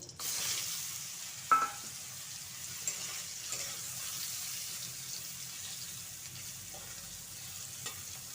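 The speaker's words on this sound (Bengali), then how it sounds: "তাহলে পটলগুলো ভেজে নেব" Pointed gourd pieces fry in hot oil in a wok, a soft steady sizzle with a couple of brief clatters near the start, no voices.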